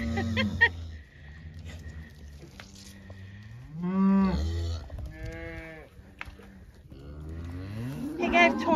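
Cows on a farm moo and bawl for their calves, with several long, loud, drawn-out calls overlapping one another at close range in the barnyard, and no voices are heard.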